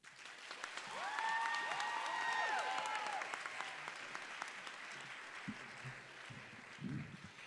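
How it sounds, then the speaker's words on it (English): Sustained audience applause at a Harris-Stowe State University convocation greeting the university president, a dense wash of many hands clapping that swells and holds for several seconds, with whoops and cheers mixed in before fading toward the end. "please give a resounding HSSU round of applause for our president, Dr. LaTanya Collins-Smith"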